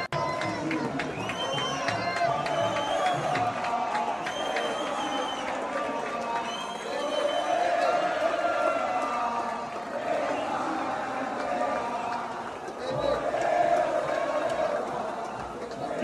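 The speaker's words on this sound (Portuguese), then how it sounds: "Ontem o Neymar foi na Vila e foi ovacionado pela torcida." A large football crowd at Vila Belmiro, the Santos stadium, chanting and cheering for Neymar in repeated swelling waves, the rhythmic voices sounding from across the stands.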